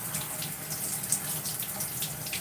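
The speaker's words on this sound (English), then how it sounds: "Just rinsing out the conditioner as you come into the room." Tap water runs steadily while conditioner is rinsed from hair, giving a continuous close hiss and splash with small fluctuations and no speech.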